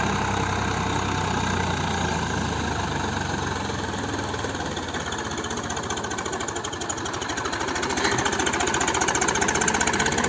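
A Preet 6049 tractor runs steadily in a field while sowing maize, its close, loud engine chugging continuously with a rough knocking rhythm for the whole stretch.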